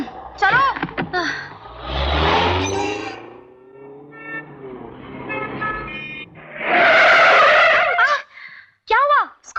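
A badly driven car with tires skidding and squealing in repeated bursts, along with short horn-like toots and engine noise, loud and close, mixed with excited voices and music.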